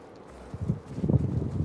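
Hooves of a gray and black horse clip-clop in the video game Ghost of Tsushima, a short run of soft, close steps starting quietly and growing slightly louder.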